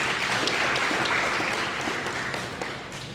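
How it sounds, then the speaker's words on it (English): Seated audience at an inauguration ceremony for a heavy equipment operator training workshop in Zambia applauding, a dense, fairly loud patter of clapping that holds steady then eases slightly toward the end. "Let's give them a round of applause."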